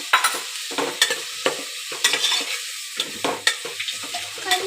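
Onions fry in a pressure cooker for biryani while a spoon stirs them briskly, giving bursts of sizzle broken by repeated scraping strokes and clatter against the metal, close and fairly loud, with no talking.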